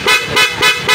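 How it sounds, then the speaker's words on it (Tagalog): A loud PAA horn fitted to a Honda ADV 160 scooter blasts in rapid bursts, four sharp, harsh toots close up with no voices. "switch mode ng malakas na busina which is PAA"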